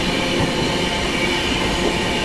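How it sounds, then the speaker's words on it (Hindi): Special train hauled by a WAG 9 electric locomotive passing close at night, a loud continuous rushing rumble of wheels and cars with faint metallic squeal, no voices. "अभी भाई साहब किसी स्पेशल ट्रेन को ओवरटेक मारा है यहाँ पर"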